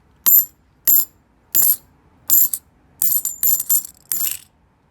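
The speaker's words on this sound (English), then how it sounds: "if you grab a couple coins and you dump them on each other, you get that nice high ping" Silver half dollar coins dropped onto one another, giving a run of bright, high metallic pings; four separate clinks are followed by a quicker cluster of four more, close and clear with no talking.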